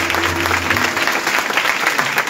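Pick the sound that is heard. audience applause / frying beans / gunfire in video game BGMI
audience applause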